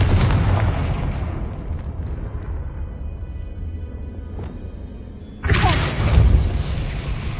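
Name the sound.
Confringo blasting curse explosion in a Harry Potter video game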